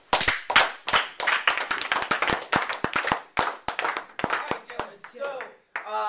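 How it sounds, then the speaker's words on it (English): Close, crisp hand claps from a small audience greeting speaker Scott Kirkpatrick, individual sharp claps in irregular bursts rather than a smooth wash, fairly sparse and near. "Give him a round of applause"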